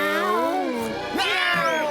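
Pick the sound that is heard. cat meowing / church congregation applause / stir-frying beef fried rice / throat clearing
cat meowing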